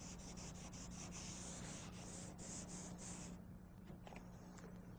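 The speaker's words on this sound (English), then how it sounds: "We'll be sanding off what we don't need here, and the only glazing and spot putty will be left with what we need to fill the imperfections." Car bodywork being hand-sanded to knock back glazing and spot putty, a steady close scratchy rubbing in quick repeated strokes that stops partway, leaving a quieter faint scraping afterwards, with no talking.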